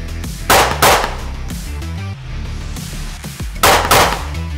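Pistol shots from a Beretta APX Centurion crack out on a shooting range, four sharp, loud reports in two quick pairs separated by a few seconds of quiet.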